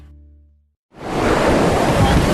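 Ocean surf rolls in as a loud, steady broadband wash after a short lead-in of low music and near-silence, filling the rest of the clip with continuous breaking-wave noise.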